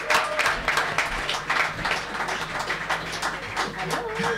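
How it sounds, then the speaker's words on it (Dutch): Audience applause and clapping at a theater festival talk show in Den Bosch, steady and moderately loud for several seconds, with crowd noise mixed in and no speech over it. "Mag ik een groot applaus voor Victorien van Hulst."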